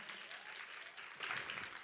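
An audience applauds at a talk, a faint steady wash of clapping that swells slightly toward the end.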